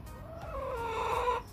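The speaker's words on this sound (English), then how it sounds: "chickens are all fine." Chickens in a coop give a drawn-out, wavering vocal call lasting more than a second, close and fairly loud, with no talking over it.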